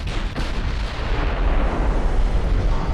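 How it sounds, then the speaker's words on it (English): 16-inch naval guns firing in Ultimate Admiral: Dreadnoughts: a heavy, continuous barrage of deep booming blasts that blend into a sustained roar, loud and dense throughout. "He's just pummeling me with 16-inch guns."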